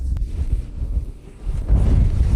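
Strong wind drives snow across a glacier, a rough, gusting roar buffeting the microphone, close and loud, swelling toward the end with no speech.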